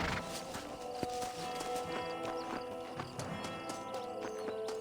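A horse walks in Red Dead Redemption with steady clip-clop hoofbeats close by, and a whinny is also heard, with no speech over it.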